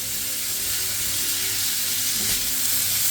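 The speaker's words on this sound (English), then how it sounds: "Now I'm going to actually toast it off in the oil." White rice grains toasting in hot oil in a pan, giving a steady, close sizzle and hiss with faint stirring scrapes.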